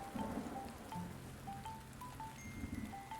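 Rain in the video game Goodlands, a soft continuous patter and hiss at low level, with faint game music tones layered over it, no one talking.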